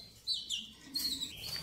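A caged songbird at a bird seller's gives a few faint, high chirps in quick bursts against quiet background hiss.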